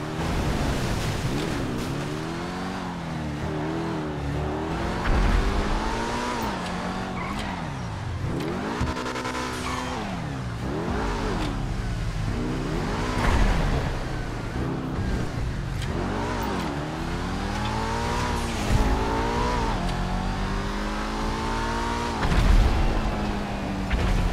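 Engine of a car in a transforming-car sumo video game revs repeatedly, rising and falling in pitch in steady waves throughout, loud and close, with possible tire skids mixed in and no talking.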